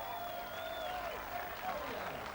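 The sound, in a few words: crowd cheering and applauding at strongman competition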